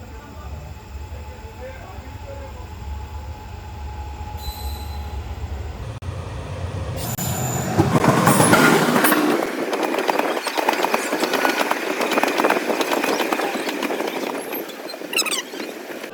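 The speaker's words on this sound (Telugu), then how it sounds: "ఆపోజిట్ నుంచి ఒక ట్రైన్ వస్తుంది." A train rumbles in on the opposite track at Kansrao station and grows louder, its wheels screeching and squealing as it rolls past close by, then the noisy clatter continues steadily.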